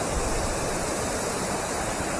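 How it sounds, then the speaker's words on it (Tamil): Heavy water pours down the waterfall at Anaimedu near Salem, a dense, loud, unbroken roar heard close and alone, with no voices. "நல்லா அதிகமாக தண்ணி உழுவுதுங்க"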